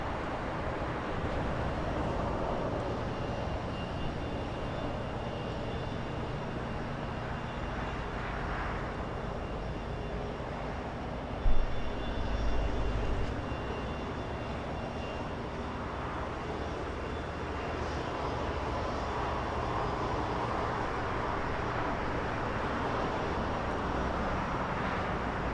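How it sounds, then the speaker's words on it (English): A British Airways airliner, Speedbird 280 bound for London Heathrow, pushes back at Los Angeles International Airport, giving a steady broadband jet engine roar at moderate distance with a brief louder thump midway. "Speedbird 280 heading back to London, pushing back right now"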